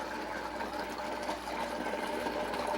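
A blender runs on low speed mixing a tahini, tamari and lemon dressing with flax oil, giving a steady, even whirring hum throughout.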